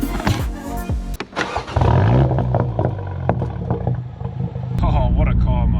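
A BMW F40 M135 fitted with a Cobra Sport stainless exhaust starts and pulls away, settling into a loud, continuous close engine drone with a rough growl, while someone talks over it.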